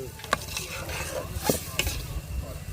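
Chicken frying in tomato paste in a home kitchen pan, a low sizzle with a few sharp stirring clinks and scrapes, while someone talks over it.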